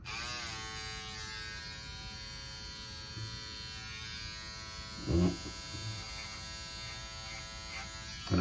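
Philips Norelco trimmer cutting through a goatee, a steady electric buzz with a rich harmonic whine running throughout, with brief louder bumps as the blades meet hair.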